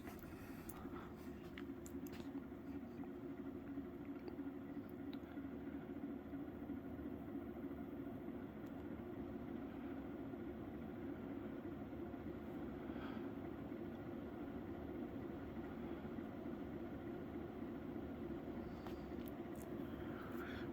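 A Hunter Pfaltzgraff Collection Tea Rose ceiling fan runs on high, giving a steady, soft whooshing hum with a low motor drone, unchanging throughout, with a few faint clicks.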